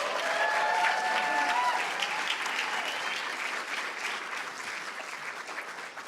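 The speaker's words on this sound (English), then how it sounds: "Let's give all our speakers another round of applause." An audience at a student speech event gives a sustained round of applause, dense and steady clapping that slowly thins over several seconds, with faint voices mixed in.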